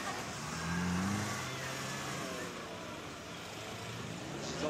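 Off-road 4x4 vehicles drive over a sand course at an event in Katwijk, giving a steady, moderately loud engine drone with a rising rev early on and low rumble throughout, heard at some distance.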